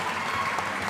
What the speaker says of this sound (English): got a big applause from the stands